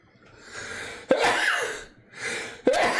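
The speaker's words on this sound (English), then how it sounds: "I'm going to sneeze." Two sneezes in quick succession, each with a sharp sucked-in breath before a forceful burst, close and loud.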